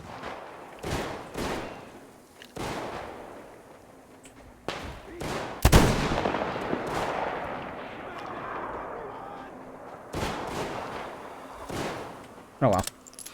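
Gunfire in the video game Metro Exodus: scattered loud shots and heavier blasts crack out at irregular intervals, several sharp bursts with rumbling tails between them, while a player talks over the action.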